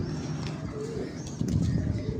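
A breeder pigeon coos softly in low, throaty murmurs over steady background noise, with faint voices nearby.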